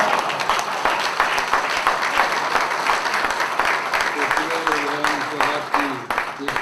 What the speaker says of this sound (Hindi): इसकी तालियां बजाते रहिए, बहुत बड़ा शायर है।